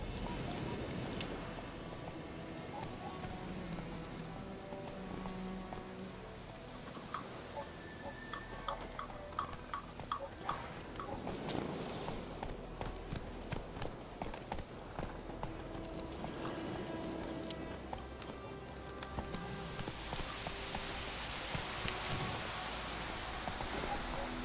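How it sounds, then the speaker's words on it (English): Horse hooves clopping in a video game, a quiet continuous patter of hoofbeats under ambient rain-like noise and game sounds, with a voice talking over it. "I'm using a horse so that I can keep my speed with him"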